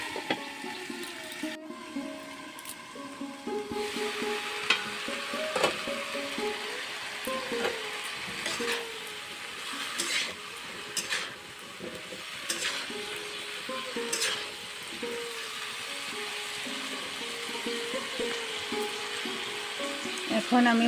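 Chopped green chillies fry in a pan, a busy close sizzle and spatter running the whole way with occasional stirring scrapes and clinks, no talking.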